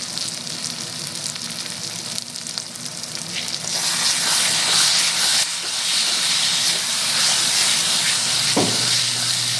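Ground spice masala for mutton curry sizzles and hisses steadily in a hot pan, growing louder midway, with a sharp burst of sizzle near the end as water is added.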